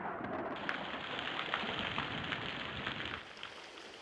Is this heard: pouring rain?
yes